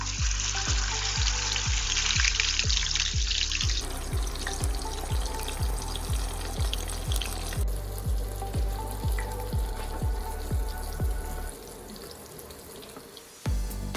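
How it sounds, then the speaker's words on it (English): Fish frying in hot oil for Belizean fried fish with coconut sauce, a steady close sizzle with a regular, rapid crackling pulse running throughout, alone without talk. "the oil is ready, and let's start frying the fish."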